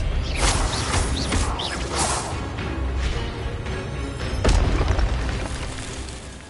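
A spell fires in the Hogwarts Legacy video game, a run of booming magical bursts and crackling pops with creaky mechanical textures, loud and dense across several seconds with no voice.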